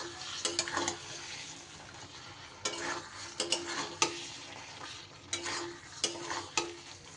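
Green tomato and poppy seed dish being stirred by hand after raw mustard oil is added, a soft continuous scraping and wet mixing with a few sharper spoon-against-pan clinks spaced through the stretch, close and moderately quiet.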